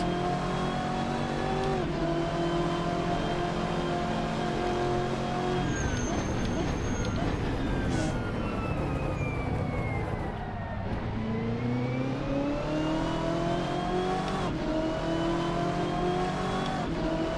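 A 2009 race car engine in the game Assetto Corsa roars continuously with rising and falling revs, gear shifts and a brief tire squeal, loud and close throughout.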